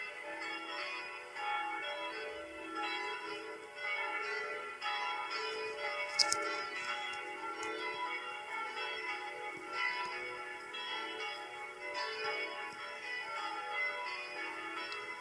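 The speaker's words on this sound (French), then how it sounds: "c'est les cloches sonnent pour célébrer la première messe" Church bells of the Saint-Rémi cathedral, recreated in a Minecraft mod, ring in a continuous overlapping peal with layered tones, steady and moderately faint throughout, with one brief sharp click partway through.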